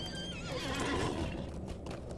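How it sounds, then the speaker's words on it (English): A horse whinnies loudly in Lord of the Rings Online over a busy, steady game background, with a hint of hooves, the neigh rising and falling over about two seconds. "Get back on the horse."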